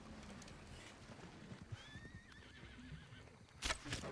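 A faint horse whinny in a video game rises and wavers for about a second over low, steady background noise, followed by a couple of soft thumps.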